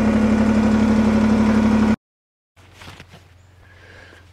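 A tractor engine idles loudly up close with a steady low rumble for about two seconds, then cuts off abruptly. After a short silence, fainter idling and some clunks follow at a distance.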